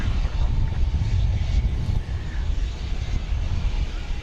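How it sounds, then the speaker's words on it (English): An American Airlines Airbus A320 taking off at night from Dallas Fort Worth airport, a loud continuous low engine rumble with wind buffeting, heard alone without speech. "American Flight 2267 to Kansas City, an Airbus A320"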